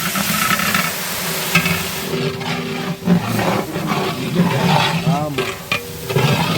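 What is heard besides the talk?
two kilograms of tomatoes frying and stirred in a biryani pot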